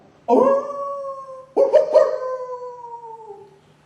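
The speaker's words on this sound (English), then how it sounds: "With only the howl of a timber wolf." A timber wolf howls nearby in cold, icy mountain country: one long sustained howl, then a second that breaks and rises before stretching out and fading, clear against near silence.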